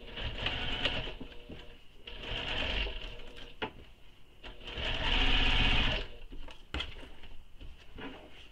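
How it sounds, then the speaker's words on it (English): A sewing machine runs along a tote bag seam in several close, steady whirring stretches, broken by brief stops and small clicks, with no voices. "So now we're going to sew this with the seam allowance given in the pattern."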